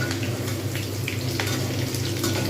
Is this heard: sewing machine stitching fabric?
no